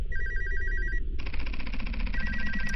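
Telephone ringing inside a Korean RPG Maker horror video game, with repeating electronic ring bursts over a low droning background, loud and steady throughout.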